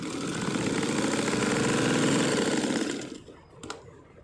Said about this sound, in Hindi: शोल्डर्स की स्टिचिंग कर ली है